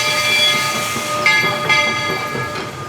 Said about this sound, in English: here's me talking with the train going in reverse